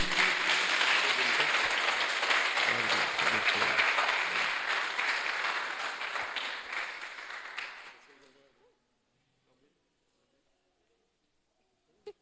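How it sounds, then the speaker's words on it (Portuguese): A church congregation applauds loudly and steadily for about eight seconds, then the clapping fades out into near silence. "Você pode aplaudir o Senhor?"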